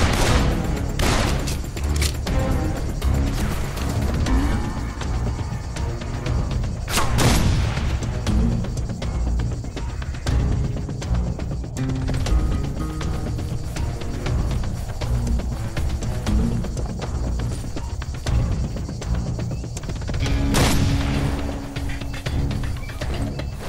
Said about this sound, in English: He's shooting at us!